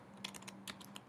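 Someone types a command in the OS X Mountain Lion Terminal on a computer keyboard, a quick run of soft, close key clicks in an uneven rhythm over a faint steady hum, with no talking.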